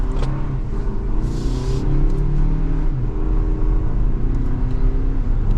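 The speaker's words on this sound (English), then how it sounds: "So it'll downshift all the way, and then getting up to speed." A 2023 Toyota Highlander Limited AWD engine downshifts and then pulls hard up to speed, a steady close cabin rumble that swells as revs climb, with no talking.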